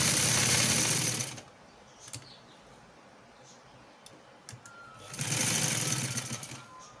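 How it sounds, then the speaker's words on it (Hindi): A sewing machine stitching a trouser hem, with a close, fast whirring run of stitches, a pause with small clicks and handling noises, then a second burst of stitching. "मशीन का टांका दूसरी तरफ लेके आ रहा है।"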